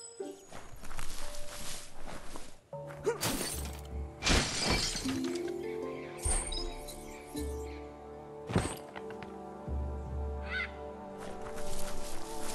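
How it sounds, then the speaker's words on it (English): A box smashed in the video game Biomutant, with sharp shattering crashes and wooden breaking bursts over a layered game soundtrack with clip-clop footsteps. "You shouldn't worry about smashing up the box."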